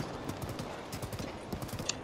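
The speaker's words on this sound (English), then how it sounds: "that horse is still kind of freaking out" Horse hooves clip-clop in a rapid, uneven rhythm in a Zelda video game, faint and close, with a brief sharp whinny-like squeal near the end.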